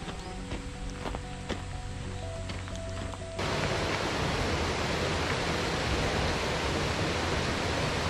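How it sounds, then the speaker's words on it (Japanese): Mountain stream flowing beside a hiking trail on a low summer mountain, a steady broadband rush of water that becomes louder and fuller partway through, with a few faint knocks over it early on. "沢の横だけでね音が聞こえるだけでちょっと涼しい感じになります。"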